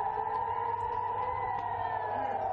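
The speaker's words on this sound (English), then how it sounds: "sirens warning of incoming Israeli missiles or Palestinian rockets" A steady, wailing missile and rocket warning siren near the Gaza Strip border sounds continuously with a slowly sliding pitch, loud and sustained throughout.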